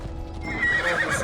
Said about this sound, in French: On descend du cheval.